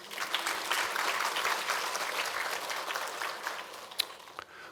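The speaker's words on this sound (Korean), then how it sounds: "우리 하나님께 박수 한번 줍시다" A church congregation gives a short round of applause during a Sunday morning worship service, the clapping fairly faint and even, then thinning out near the end.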